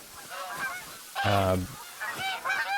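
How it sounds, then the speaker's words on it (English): Geese honking in the hunting game Call of the Wild, a noisy flock with repeated loud nasal honks, one especially strong call in the middle, heard alone and fairly close. "oh man, look at these"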